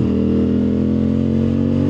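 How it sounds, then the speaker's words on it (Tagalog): A CF Moto 450 motorcycle engine runs at a steady, elevated speed, with a constant throbbing drone and no clear rise or fall in pitch. It is loud and close, with no talking. "Bibilisan natin ng konti kasi medyo mainit na yung makina natin para lang lumamig."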